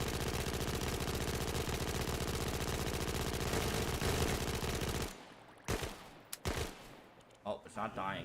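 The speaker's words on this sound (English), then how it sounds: "don't run in front of me when we're shooting guns" Sustained rapid gunfire from weapons in DayZ, a dense loud burst lasting about five seconds, then silence broken by a few sharp single shots.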